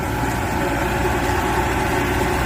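A large 100-horsepower tractor fitted with a 2,500 mm mounted weed mulcher runs at a steady idle, giving off a dense, unbroken engine drone with no pauses.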